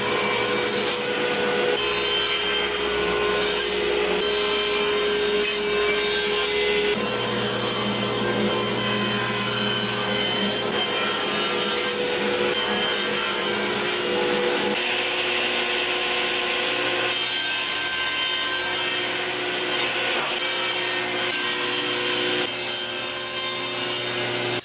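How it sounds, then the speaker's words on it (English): Table saw cutting plywood into parts for a box joint jig, a loud steady whine and rasp of blade through wood running throughout with brief dips between cuts, no talking. "I'm going to use the table saw"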